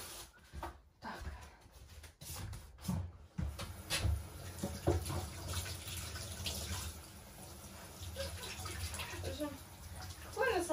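Tap water runs into a kitchen sink as grapes are washed, a steady splashing that is interrupted by a few clatters and knocks, with a voice talking at times in between.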